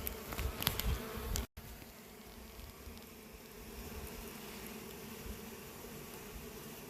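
Honey bees buzz densely around a hive, a constant close swarm hum with a few louder passes near the start.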